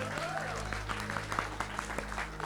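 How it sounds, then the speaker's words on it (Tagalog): A church congregation breaks into fervent applause that holds steady throughout, a dense wash of clapping with individual sharp claps standing out, while a low hum and voices carry underneath. "Yung matinding palakpak para kay Lord."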